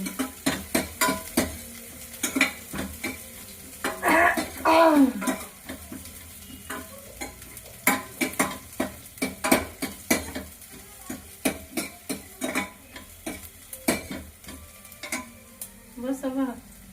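Chopped onions browning in hot oil in a home kitchen pan, with a steady sizzle broken by frequent sharp clanks of a spatula stirring against the metal, close and fairly loud, with a brief voice in the middle.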